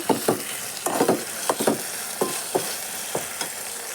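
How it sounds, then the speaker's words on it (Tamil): Tomato and garlic sautéing in a pan, a steady sizzle broken by rhythmic spatula scrapes and taps roughly twice a second, close and moderately loud, no voices. "இப்போ பூண்டு போய் சேர்த்துக்கலாம் சேர்த்து நல்லா கலந்து கொடுங்க"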